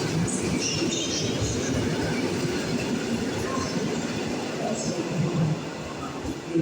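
A train rolls into Kraków Główny station with a steady rumble and faint wheel squeal and clatter, heard under a public-address announcement for several seconds.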